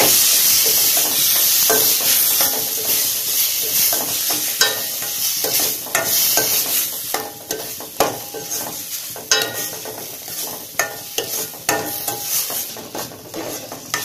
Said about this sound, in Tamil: மிளகாத்தூள், கரம் மசாலா. இதே நல்லா மிக்ஸ் பண்ணிடுங்க.